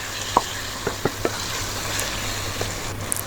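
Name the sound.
stirring onions and chopped tomatoes frying in a pan for Sri Lankan biryani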